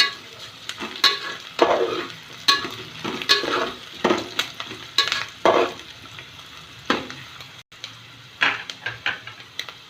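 Onions sautéing in a pan for bread upma make a continuous sizzle and fry. A spoon stirs and scrapes at them in repeated bursts, close and fairly loud, with no talking.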